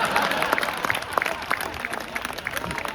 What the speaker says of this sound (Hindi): एक ने ताली बजाई